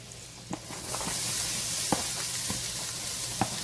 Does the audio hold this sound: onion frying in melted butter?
yes